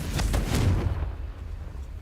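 A Confringo explosive spell goes off in a video game: a few sharp cracks, then a deep rumbling boom that slowly fades.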